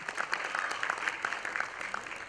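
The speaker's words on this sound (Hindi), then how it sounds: "एक बार जोरदार तालियां होनी चाहिए दोस्तों।" A crowd claps at a live devotional Sai Sandhya music event in a Mumbai auditorium, sustained even applause with many overlapping hands throughout.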